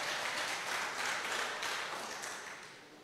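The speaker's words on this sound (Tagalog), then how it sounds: "yung pinakamalakas natin na palakpak para sa Panginoon" A church congregation claps for the Lord during a Filipino worship service, a dense, fairly quiet wash of applause that fades gradually over about three seconds, with no voices on top.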